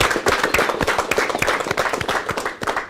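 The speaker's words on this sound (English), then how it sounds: "Let's get a round of applause for Mario." A small gathering at a city job center recognition event applauds, with distinct separate hand claps in a loose, uneven rhythm, moderately close and fading slightly near the end, with no talking.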